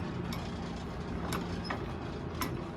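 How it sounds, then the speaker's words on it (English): A low mechanical rumble with a steady hum from an old drill press running nearby in Nevada City, Montana, broken by a few faint metallic clicks and taps. "that's an old-fashioned drill press right there"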